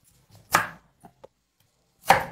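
A knife cuts through a large sweet potato: two sharp, close chops about a second and a half apart, with a few light taps between them, in an otherwise quiet kitchen.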